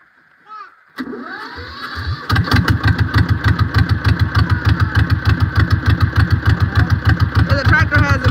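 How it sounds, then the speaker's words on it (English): Tractor engine cranking and starting, then settling into a loud, close, rhythmic chugging idle with an even pulsing beat; a brief voice is heard before it starts. "The tractor hasn't been cranked up since Monday."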